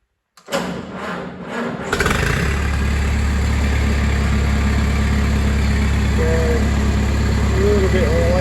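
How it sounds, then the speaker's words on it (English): A vintage tractor engine at a vintage machinery rally cranks a few times on choke, then catches and settles into a loud, steady idle with a rough, throaty running note close by. "We'll give it a few revs and a little bit of choke."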